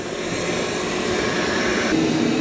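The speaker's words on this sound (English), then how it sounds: "the Dreame ramps up its suction when it's on carpet. It is a little bit louder now." Dreame L20 Ultra robot vacuum running on carpet with its suction ramped up, a steady, loud, continuous whirring roar that holds level throughout, close by and with no talk.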